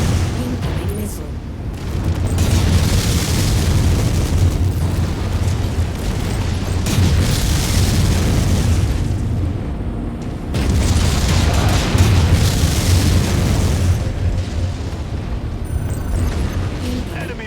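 Booming missile explosions in the MechWarrior 5: Mercenaries mech combat game, heavy sustained rumbles rolling in waves across the clip, loud and close, with radio voice callouts over the top.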